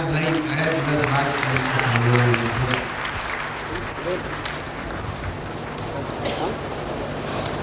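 Crowd applause at a political speech swells loudly, then thins into scattered clapping and crowd noise.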